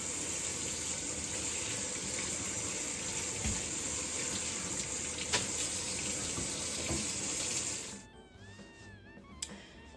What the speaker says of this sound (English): we're gonna go in and wash our hands